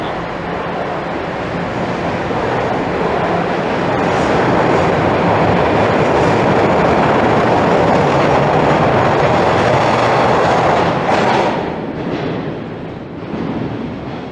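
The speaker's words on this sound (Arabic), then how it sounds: "أجل، لقد فاتني قطاري المتجه جنوبا للتو" A southbound subway train pulls out of a station platform on Toronto's Yonge line near Finch, a loud, broad rumble of wheels and motors that swells, holds, then fades as it leaves, with no voices.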